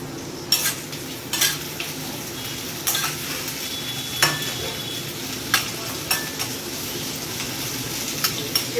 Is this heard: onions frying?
yes